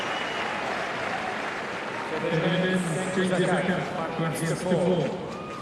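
Tennis crowd at a Montreal 2011 match applauding steadily beneath a commentator's voice, the clapping swelling slightly in the second half.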